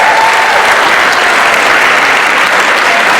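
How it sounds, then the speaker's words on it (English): Theater audience applauding after a night of 24-hour plays at a high school, a dense, steady wash of many hands clapping close and loud throughout with no pause. "and I hope you applaud them for that."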